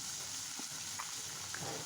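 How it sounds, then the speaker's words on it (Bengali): Spices go into a pan of fried onions for a koi fish and new potato curry, a quiet steady sizzle with a few soft stirring taps and no voices. "এখন আমার পেঁয়াজটা ভাজা হয়ে গিয়েছে"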